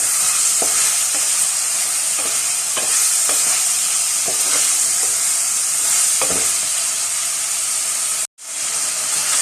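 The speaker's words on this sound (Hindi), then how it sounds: "अच्छा सा हम गोश्त को अदरक और लहसुन के साथ फ्राई करेंगे" Mutton fries with ginger and garlic paste in a karahi, a loud dense sizzle broken by scraping stirs at a loose rhythm, with a brief cut near the end before the frying resumes.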